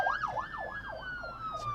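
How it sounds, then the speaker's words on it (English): An ambulance siren wails in a steady rising-and-falling sweep as emergency vehicles pass through commuter traffic, loud and close throughout with a faint road rumble underneath. "We just got several ambulances coming through on our commute."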